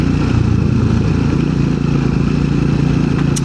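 A small-bore motorcycle on a group trail ride through hilly country, its engine loud and close, droning steadily with a buzzy, even note and no pauses.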